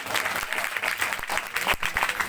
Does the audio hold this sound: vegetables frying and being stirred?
no